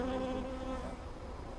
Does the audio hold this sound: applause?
no